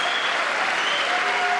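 Steady audience applause, dense and even clapping throughout a short burst, fairly loud and heard alone without talk.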